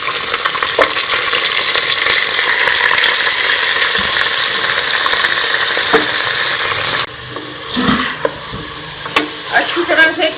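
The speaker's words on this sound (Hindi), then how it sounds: "अच्छी तरह से कलर चेंज होने तक मैं इसे भून लूँगी।" Beef and onions fry in a pan for balti gosht, a loud steady sizzle that abruptly drops midway, followed by scraping stirs and clinks of a utensil.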